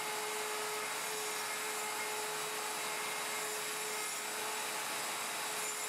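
A handheld router cuts a tenon on a Leigh FMT jig, producing a steady, loud high-pitched whine and hiss of spinning bit on wood, unbroken throughout with no voices.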